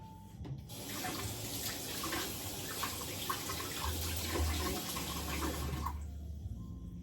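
Steady rush of tap water running and splashing into a sink while a blender is rinsed, for several seconds, then cutting off.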